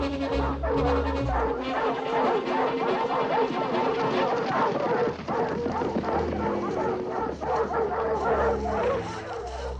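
Dogs bark and yip in rapid bursts with whimpering in a French horror film, loud and close, mixed with hoofbeats and other scene sound.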